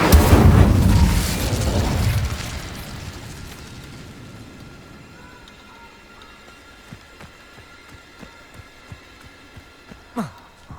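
The Incendio fire spell cast in Hogwarts Legacy, a loud roaring whoosh and rumbling burst at the start that fades over several seconds into quiet crackles and small pops, with one sharp hit near the end.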